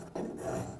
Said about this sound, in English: So we're going to get together and sand with 80 weight paper here.